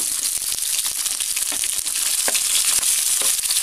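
Paneer kofta with onion, green chili and ginger frying in hot oil, a dense steady crackling sizzle close up, with a few soft clinks, no voice.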